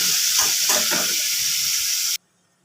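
A loud, steady sizzle of onions frying in hot oil until browned fills the clip, then cuts off abruptly into near silence.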